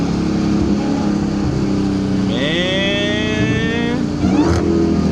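Supercharged Dodge Charger Hellcat on the road abroad, heard from inside, roaring loudly, then a rising supercharger whine with climbing engine revs over a steady drone, ending in a sharp blip as it downshifts.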